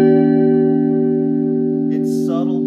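Electric guitar run through a TC Electronic SCF stereo chorus pedal, a sustained chord ringing with a subtle pulsing shimmer and slowly decaying, with brief talking creeping in near the end.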